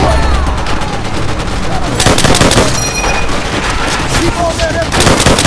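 Rapid automatic gunfire blasting through a wall in Call of Duty Vanguard, loud bursts of shots over chaotic battle noise, with a heavy volley kicking in midway and voices shouting beneath.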